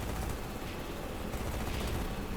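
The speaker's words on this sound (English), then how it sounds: "Re-enable the cannons. I'm just gonna fire at it from here." Rapid cannon fire from a naval combat unit in Carrier Command 2, a dense continuous barrage of blasts with a heavy low rumble, steady and loud throughout.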